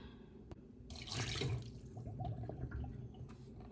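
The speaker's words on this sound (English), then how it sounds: "Squeeze out the excess water." Water splashing and trickling into a sink as soaked noodles soaked in cold water are squeezed, a wet squeeze with dripping runoff, fairly close and moderately loud.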